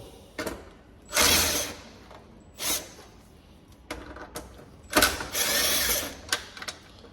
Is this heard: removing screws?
yes